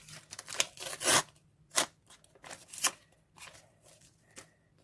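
A paper surprise packet is torn open and unwrapped by hand: quick close crinkles and sharp rips in uneven bursts with quiet gaps between, no talking.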